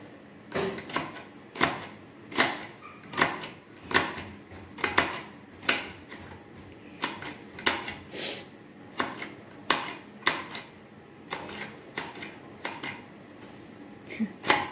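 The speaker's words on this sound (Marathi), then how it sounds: "आता हा मी दुसरा कांदा घेतला चॉप करायला" A second onion is chopped on a board for paneer masala, making a steady run of sharp knife thuds at an even rhythm, close and fairly loud.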